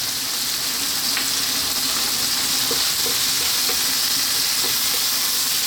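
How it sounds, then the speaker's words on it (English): Ripe tomatoes with salt frying on high heat for a rajma red bean curry, a loud, constant hissing sizzle close up with a few faint stirring taps beneath. "Stay on this high heat for about 5 minutes. We really want to cook those tomatoes down."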